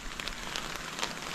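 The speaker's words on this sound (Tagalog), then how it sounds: "Hala, lumalakas yung ulan." Heavy rain pattering steadily onto trees and leaves, a dense, even hiss of drops close by with no voices.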